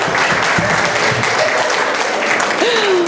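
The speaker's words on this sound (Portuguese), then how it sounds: "Palmas pra ele!" Audience applause at a parenting lecture, a steady, full burst of clapping that continues throughout, with a voice briefly rising above it.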